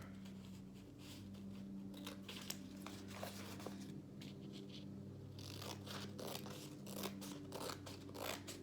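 Scissors cutting away a layer of canvas removed from a frame, giving quiet repeated snipping and crunching strokes in an irregular rhythm over soft low background hum, with no talk.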